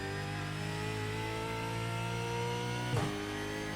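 A supercar engine in the iRacing simulator winding up, a steady loud tonal drone rising slightly in pitch, with a brief bump near the end.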